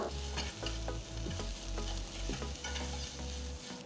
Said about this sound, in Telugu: నెక్స్ట్ దీంట్లో కొన్ని కరివేపాకులు వేసుకుందాం దీంతో పాటు జస్ట్ ఒక పావు టీ స్పూన్ ఉప్పు కొద్దిగా ఇంగువ మొత్తం ఒకసారి కలిపేసేద్దాం